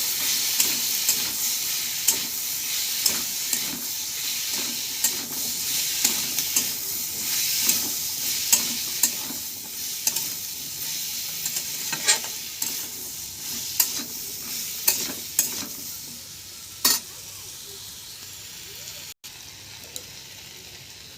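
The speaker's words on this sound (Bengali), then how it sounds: "ভালোভাবে নেড়ে চেড়ে মাখিয়ে নেব।" Fish head and pumpkin pieces stirred in a pan with salt and turmeric, a steady close sizzle of frying broken by repeated scraping stir strokes throughout, with no talk.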